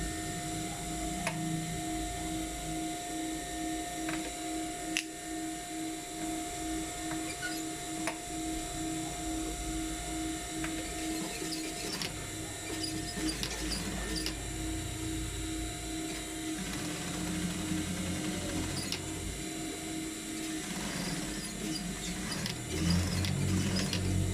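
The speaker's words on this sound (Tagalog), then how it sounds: "Pasensya na mga po, ang ingay ng machine." A sewing machine runs steadily while a trouser waistline is altered, giving a continuous mechanical whir and rattle with a faint hum throughout, with no talk over it.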